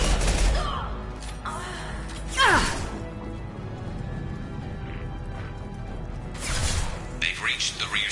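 Rifle gunfire rings out in the video game Mass Effect 2 during a firefight, with a sharp crack at the start and bursts of shots later, over a continuous background of combat noise.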